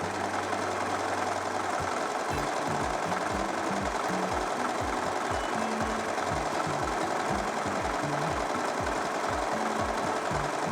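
An overlocker stitches a garment hem in a rapid, steady mechanical whir with rhythmic chugging pulses, close and continuous for several seconds after a brief hum at the start, with no talking.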